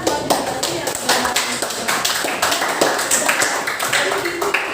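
A junior high school class applauds for a student, a dense burst of handclaps lasting a few seconds.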